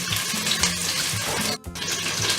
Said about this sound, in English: I'll quickly wash my rice.